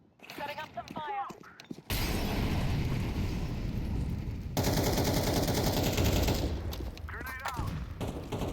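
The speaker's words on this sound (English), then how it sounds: "Throw in the flashbang. I'm throwing the flashbang. Throw in smoke. Setting up some fire." Loud, dense Counter-Strike 2 gunfire and blasts from flashbang and smoke grenades fill most of the stretch. Voices talk briefly at the start and again near the end.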